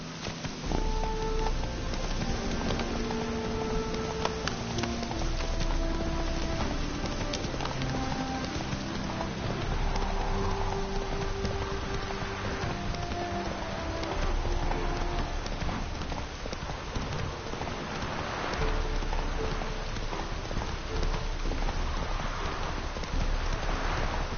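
Hooves of Roach, the horse in The Witcher game, clip-clop in a steady galloping rhythm for a long stretch, loud and continuous, with layered game music and ambient tones underneath.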